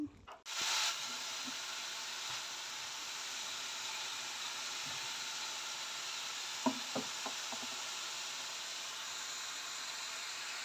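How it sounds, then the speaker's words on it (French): Mushrooms cook in a hot pan with a soft, steady sizzle and hiss throughout, fairly quiet and close, broken by a loud clatter at the start and a few light clicks of utensils later. "Donc je vais faire cuire les champignons"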